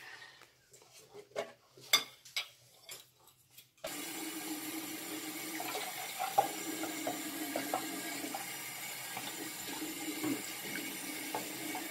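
After a few soft clinks and taps, water starts running steadily from a tap, a continuous close splashing stream that carries on to the end.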